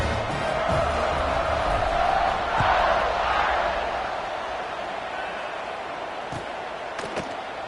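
A stadium crowd at an American football game roars steadily around a kickoff, a loud sustained wash of cheering that swells near the middle and eases slightly toward the end, with a few sharp thuds late on.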